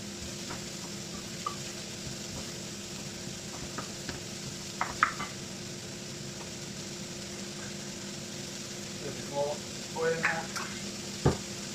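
Mushrooms frying in oil in a pan, added to a chicken saag curry, give a steady low sizzle throughout with occasional soft stirring clinks and scrapes.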